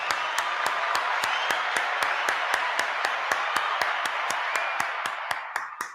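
Sharp, evenly spaced claps ring out in a steady rhythm for several seconds over a continuous noisy bed, loud and close, fading slightly at the end.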